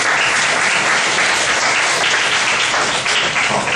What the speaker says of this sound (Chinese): 那我们就是掌声鼓掌一下